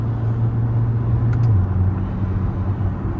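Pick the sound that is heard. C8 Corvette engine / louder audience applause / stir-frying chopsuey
C8 Corvette engine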